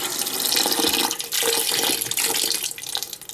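Tap water running steadily into a pot being filled for canning fig jelly, a close, continuous splashing rush that shifts slightly in tone as the level rises.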